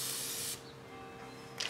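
A can of penetrating oil gives a short, sharp spray hiss of about half a second, close by, used on a Toyota MR2 during timing belt and water pump work. Quiet follows, with a faint tap at the end.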